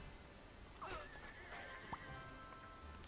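A giant horse in the video game Scribblenauts Unlimited gives a short, fairly faint neigh with a wavering whinny, followed by a brief snort.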